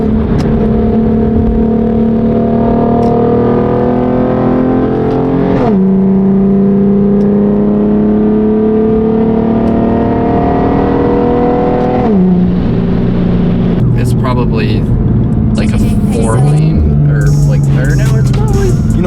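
A Chevrolet Corvette C8 engine revs hard while driving, loud and steady with rising pitch sweeps through repeated gear changes, a continuous close drone under faint background voices.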